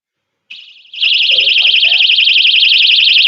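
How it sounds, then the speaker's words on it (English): A loud, shrill personal safety alarm, set off by pulling its string, starts abruptly and wails continuously with a fast warbling pitch, steady and piercing throughout. "Once you pull this string right here out, it should make a loud alarm sound."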